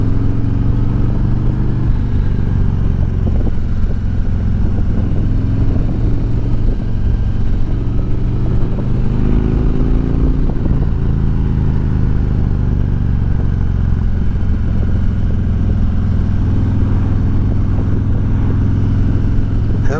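A 2020 Harley-Davidson Ultra motorcycle with a slip-on exhaust idles steadily close by, a deep, continuous low rumble with a slight rise in revs midway and no speech.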